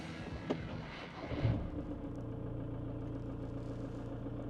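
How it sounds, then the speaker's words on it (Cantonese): A car engine idles steadily, heard from the driver's seat of a Hong Kong-market car with a low, even rumble and a brief louder clatter early on. "聽下呢啲引擎聲嘅感覺啊"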